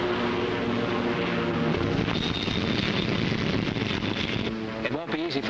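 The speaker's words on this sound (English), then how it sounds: "Stand by to take aircraft aboard." A Corsair fighter plane approaching an aircraft carrier to land, its propeller engine droning steadily and loudly with a rising whine, while a voice speaks over it.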